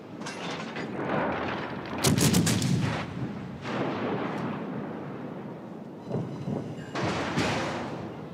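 Heavy naval cannon fire from warships in the game Azur Lane: a string of booming blasts and rumbling reports, loud and close, with several strong volleys spread across the stretch and no talk.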